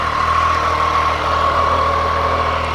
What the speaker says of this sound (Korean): 이 바이크의 엔진음 듣고 이제 시승편으로 출발해 보도록 하겠습니다